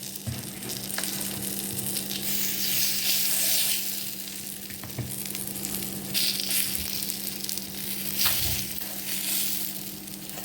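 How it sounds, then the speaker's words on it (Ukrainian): Cottage cheese waffle batter sizzles on a well-heated waffle iron as a continuous crackling hiss under a low steady hum, with a few louder bursts and clicks. "викладаємо тісто наших вафель на вафельницю"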